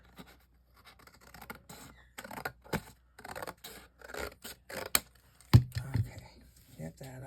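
Scissors snip through heavy cardstock in a series of short, irregular cuts and rustles at close range, mixed with paper handling and quiet talk.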